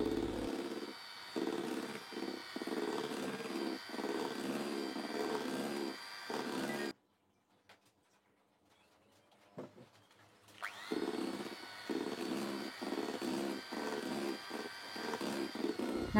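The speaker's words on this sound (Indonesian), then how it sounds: "Ini aku mau aduknya pakai mixer kecepatan yang paling rendah ya" Electric hand mixer running at its lowest speed while beating yellow egg-yolk cake batter in a bowl, a steady close whir that cuts out briefly for a few seconds, then resumes.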